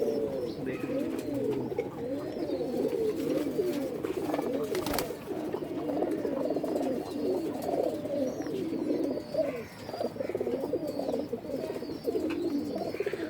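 Indian Kaldom pigeons coo continuously, many birds overlapping in a steady, throaty flock chorus of rolling, repeated phrases that stays fairly loud and close throughout, with no talk.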